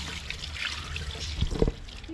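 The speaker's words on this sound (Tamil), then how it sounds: "நல்லா சோப் போட்டு ஹேண்ட் வாஷ் பண்ணிவிடுவோம்" Tap water trickles and splashes while hands are washed with soap at a farm in Kodaikanal, a soft, close running sound with a few louder splashes near the end.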